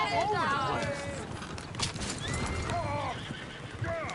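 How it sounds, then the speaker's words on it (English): Horses in Red Dead Redemption 2 whinnying repeatedly with rising and falling cries over clip-clopping hooves and creaking tack, fairly close and lively, while voices talk over the commotion. "Oh, shit, the horses!"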